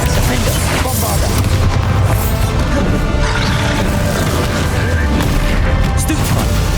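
Spell blasts and crashes from combat in the Hogwarts Legacy video game's final boss fight, a dense, loud, continuous barrage of booms and impacts with shouted voices mixed in.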